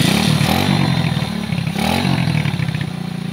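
A motorcycle with a fault that made it stall suddenly, now idling steadily after starting, a loud close engine chugging with a rhythmic mechanical clatter and a slight swell midway.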